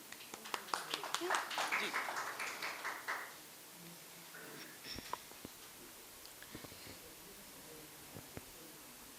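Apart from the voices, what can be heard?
audience applause at a poetry event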